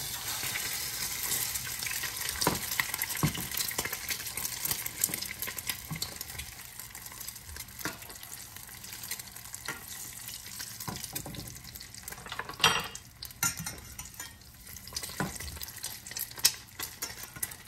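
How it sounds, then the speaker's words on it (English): Quail eggs deep fry in hot fat with a continuous bubbling sizzle and hiss, plus scattered sharper crackles and pops, heard close with no talking. "So I want to deep fry quail eggs"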